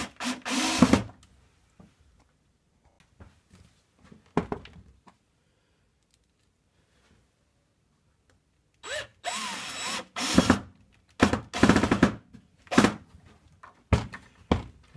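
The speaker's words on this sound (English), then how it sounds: "Just find this screwdriver." A power screwdriver drives small screws fitted with washers while a diesel heater is installed in a workshop. Short, close whirring and clunking bursts are separated by quiet gaps, busier toward the end.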